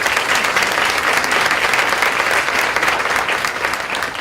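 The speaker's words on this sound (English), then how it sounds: "I actually would like if we could give just a little round of applause to Chuck right now" An audience gives a round of applause for Chuck at a conference event, a loud, dense and continuous burst of clapping that carries steadily from start to finish.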